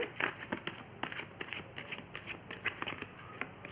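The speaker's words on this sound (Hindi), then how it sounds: "मैं कार्ड को शफल कर लेती हूँ" Tarot cards are shuffled by hand up close in a continuous run of papery riffling and flicking, with faint background noise.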